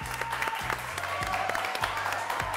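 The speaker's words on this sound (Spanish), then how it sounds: "Y lo recibimos con un aplauso." Studio audience applause greets a guest on a Uruguayan morning television show, a steady wash of clapping with musical tones running underneath.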